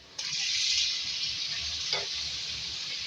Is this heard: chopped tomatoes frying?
yes